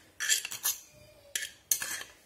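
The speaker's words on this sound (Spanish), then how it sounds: "Y seguimos removiendo para incorporárselo." Spoon scraping and clinking against a bowl while fritter dough is stirred, in a few separate close strokes with quiet gaps between them.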